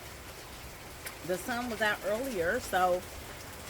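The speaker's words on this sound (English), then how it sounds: "next thing I know it started raining" Outdoor rain falls as a steady, soft hiss beneath a person speaking briefly.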